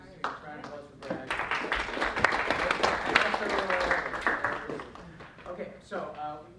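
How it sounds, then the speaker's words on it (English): Audience applause at a Chicago reopening gathering, a dense patter of many hands swelling in the middle and fading, with people talking over it at the start and end. "just a round of applause for Brad"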